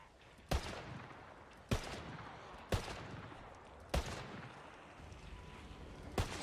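Five single gunshots in the zombie shooter Ghouls' Apocalypse, evenly spaced about a second apart. Each is a sharp, loud crack with a short ringing tail over steady background ambience.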